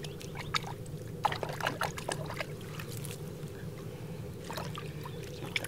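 Tired feet get washed in very cold water outdoors in a national park wilderness. Water splashes and trickles in quiet, irregular bursts against a soft, steady outdoor background.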